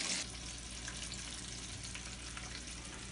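Breaded mozzarella sticks fry in hot oil in a cast iron skillet, giving a steady, close crackling sizzle with no voices.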